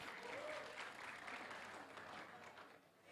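Applause for the KNPI Buleleng regency youth chairman at a voter-education gathering, a steady wash of clapping from an audience that holds for about three seconds and eases off slightly at the end.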